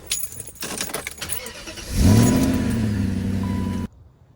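A BMW car engine cranks and starts, with a brief jangle of keys before it, then settles into a steady close idle before cutting off.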